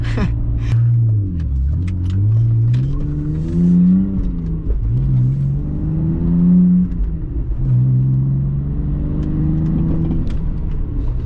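A BMW E46 with a DIY muffler delete revs up close and loud, the exhaust note climbing and falling in several throaty swells over about ten seconds.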